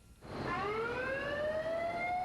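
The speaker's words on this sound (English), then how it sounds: "the signal that is used, usually a horn or siren, to notify personnel that an evacuation is required" A loud evacuation siren winds up from silence into a steady, rising wail that holds at full strength, with no voices over it.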